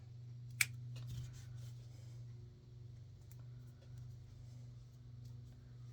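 A single crisp snip of scissors cutting a thread knot off a silicone armature, quick and close, over a steady low background hum.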